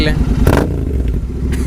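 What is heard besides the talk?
Royal Enfield Continental GT 650 motorcycle engine running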